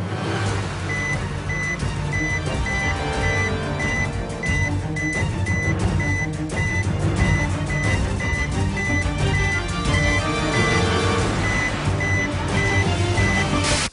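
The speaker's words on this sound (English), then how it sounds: "Stop the beeping." Repeated electronic beeps pulse steadily over a busy background of sound, continuing the whole way through at an even pace.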